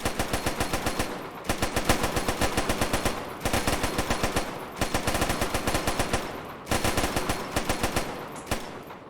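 Suppressive machine gun fire in the military game Arma: sustained rapid bursts of loud, evenly spaced shots, broken into four long strings by brief pauses, close and dominant with no talk.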